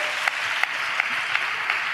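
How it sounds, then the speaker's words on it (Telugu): A church congregation claps together during worship, producing a dense, steady wash of applause with regular rhythmic accents, moderately loud and filling the room. "చప్పట్లు కొడుతూ స్తోత్రాలు చెప్దాం."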